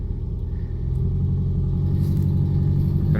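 A 1955 Austin A40 Cambridge on a very cold day pulls forward in first gear, its engine rumbling low and steady close by and swelling slightly as the car starts to move.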